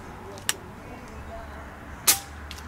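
Two sharp, brief air rifle shots from an Airmaks Krait L ring out about a second and a half apart outdoors, each a crisp snap over a quiet background.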